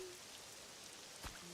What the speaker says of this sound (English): I can't turn off the rain right now.